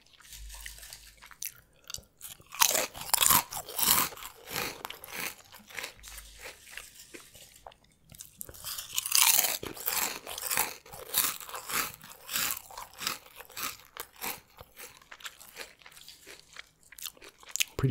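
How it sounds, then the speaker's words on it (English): Potato chips crunched and chewed close to the mic in steady, crisp bites, with brief crinkles of the bag and two bursts of eating separated by a quieter pause. "both of these chips are pretty good"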